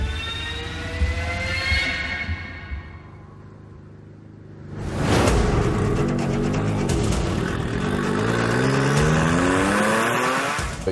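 A Ford Transit van pulls away from a race start line, its engine revving hard in first gear and rising in pitch, loud and close, with a brief lull before a strong surge of acceleration.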